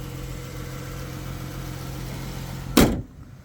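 A 2019 Dodge Challenger GT's 3.6-litre Pentastar V6, an all-wheel-drive Chrysler engine, idles with a steady low hum, then a short loud thump cuts in near the end and the sound drops away.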